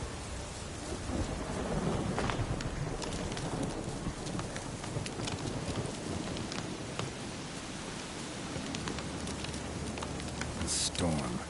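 Thunderstorm in The Witcher 3 game, with steady broadband rain and low rumbling thunder filling the scene throughout, a few sharper crackles rising above the wash, and faint voice activity mixed in.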